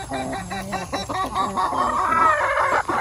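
A small flock of farm chickens, first time fed corn, clucks and murmurs continuously close by in low, busy overlapping calls with no talking.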